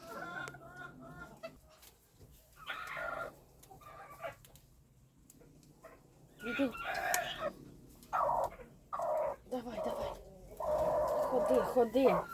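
Hens and a rooster in a farmyard cluck in short, irregular bursts, some close and loud, others quieter between them, with a person talking nearby.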